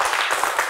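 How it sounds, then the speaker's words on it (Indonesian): A classroom group of students gives a brief burst of dense clapping, loud and close, with no voices over it. "kita beri tepuk tangan untuk kelompok"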